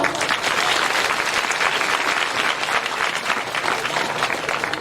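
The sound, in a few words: audience clapping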